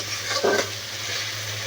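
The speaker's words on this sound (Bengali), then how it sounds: "এখন মশলাটা ভালো করে কষিয়ে নিচ্ছি" Masala spices being fried and stirred in a pan for a rui fish curry with potol and potato, giving a close, brief burst of sizzling and scraping over a steady low background hum.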